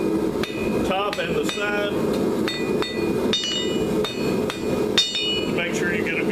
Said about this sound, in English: We're going to hang about 3/4 of an inch over the anvil, hammer it down, then hammer both sides